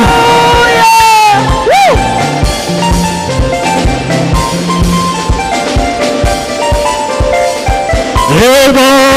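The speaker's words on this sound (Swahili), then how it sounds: "shangwe na vigelegele kwa Bwana Yesu" A church congregation cheers, shouts and ululates for Jesus, with loud overlapping voices, high wavering trills at the start and end, and rhythmic clapping or drumming running underneath.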